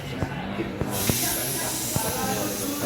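Refrigerant gas escapes from a loosened yellow hose end on an air conditioner manifold gauge during AC servicing. A loud, steady, broadband hiss rises after about a second and continues, with a few soft knocks early on.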